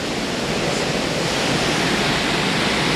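Aling Aling waterfall roars in a constant, dense rush of falling water that sounds close and loud, with no breaks or voices.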